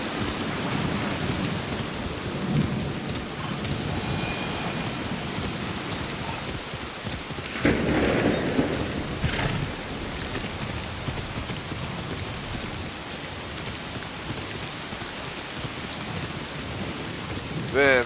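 Steady rain at night in Assassin's Creed Shadows, a continuous downpour filling the whole stretch, with a louder rumble of thunder rolling through midway and a brief swell near the end; no one talks.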